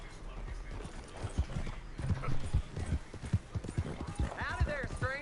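Rhythmic hoof clip-clops from a horse walking in Red Dead Redemption 2, with a short whinny near the end, in a game-style soundscape.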